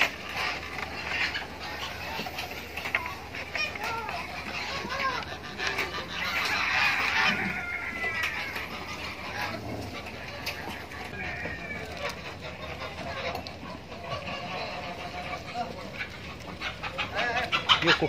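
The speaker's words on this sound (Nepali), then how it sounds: "यो कुखुरा हामी समातेर लान खोजिरहेका छौँ।" Chickens on a farm in Bahrain cluck and squawk repeatedly, close and busy, with scattered higher calls and some background voices mixed in.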